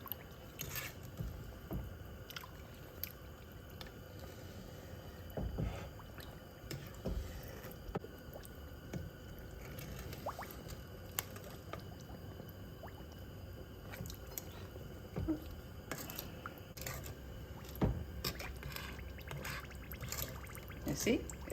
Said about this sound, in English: You see, it's bubbling, so some of the water is getting to the bottom now.